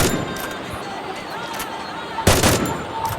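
Gunfire in the mobile battle royale game Free Fire, with a loud burst of shots landing near the end over a steady background of game noise.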